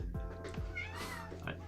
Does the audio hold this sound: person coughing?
no